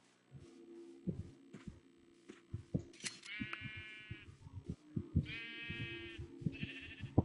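Sheep in a video game bleating a few times, short nasal calls rising over a busy backdrop of soft thumping game sounds and clicks, fairly faint and spaced out.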